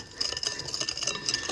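A large whisk stirs mochi muffin batter in a bowl, giving a steady, close run of soft rattling and clinking scrapes that continue throughout without pause.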